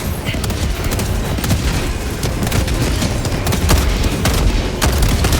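Grenade blasts in the video game Helldivers 2, mixed into steady gunfire: dense, booming bursts and rapid cracks follow each other without pause, loud and close, with voices faintly audible.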